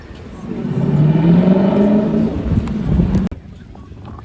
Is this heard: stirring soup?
no